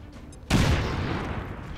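Grenade blast in the tactical strategy game XCOM 2, a sudden loud boom after a quiet moment, followed by a long rumbling roar that stays heavy to the end.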